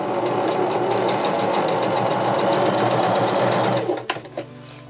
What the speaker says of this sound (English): We'll now move to a zigzag stitch, which is the number 2 stitch